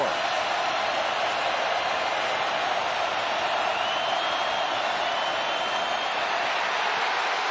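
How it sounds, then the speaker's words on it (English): A college football stadium crowd at Miami on a third down roars as one steady, loud wash of cheering that holds at full volume throughout. "Crowd noise is up too."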